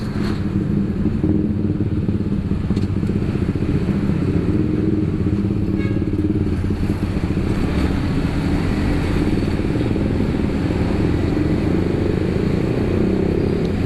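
A Suzuki Gixxer 155/250 motorcycle engine runs nearby, a steady mid-loud rumble with light mechanical clatter that holds for the whole stretch and has no talk over it.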